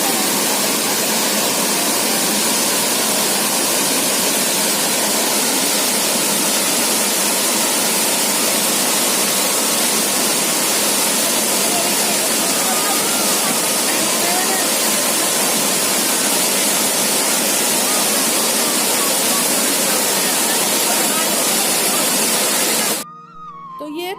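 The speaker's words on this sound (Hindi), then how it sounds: "चलिए आपको असली झरने का आवाज़ सुनाते हैं" Tirathgarh waterfall in Kanger national park, India, roars as a dense, steady wash of loud falling water close by, cutting off abruptly at the end.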